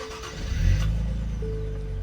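A 2023 Nissan Z Performance with a six-speed manual cranks and fires up, the engine catching into a deep, loud, close idle rumble after a brief starter whir.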